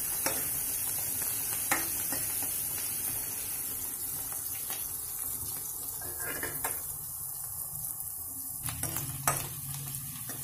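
Chopped onion and green chili sizzle steadily in hot oil in a pan while a ladle stirs them, making occasional scraping clinks over the continuous frying hiss.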